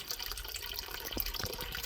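Water pours steadily into a small container serving as a DIY fish tank filter, a continuous splashing trickle with bubbling, close and moderately loud throughout.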